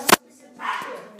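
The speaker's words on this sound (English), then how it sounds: "I don't really want to hear my dog's barking" A pet dog barking indoors, one sharp close bark followed by a longer whining, yelping vocalisation, with a voice also present nearby.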